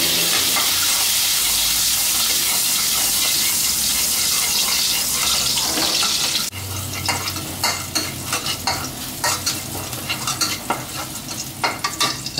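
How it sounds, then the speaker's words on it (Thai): Garlic is stir-fried over medium heat in a pan for a Thai snapper and celery dish. A loud, dense sizzle fills the first half, then gives way to rhythmic scraping and clattering of stirring over a softer fry. "ถึงวิธีการผัดแล้วนะฮะให้เราเอากระเทียมลงไปผัดกันนะครับ"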